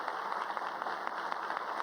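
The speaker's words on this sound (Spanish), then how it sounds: "pedirle a todos ustedes un fuerte aplauso por la superministra que han tenido en estos 4 años" An audience at a Colombian government event with the transport sector applauds, giving a faint, brief, steady patter of many hands clapping at a distance.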